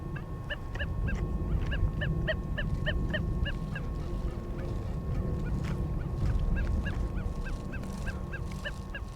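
Rapid rhythmic electronic beeps pulse from an XP Deus 2 metal detector on its relic program over a steady wind-like rumble, stuttering in irregular bursts, then fading fainter and more sporadic.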